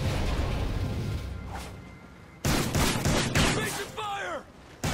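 Gunfire erupts in Call of Duty Ghosts infected-mode play: after a quieter stretch, loud close bursts of rapid shots crack out in quick clusters, with a voice briefly cutting in near the end.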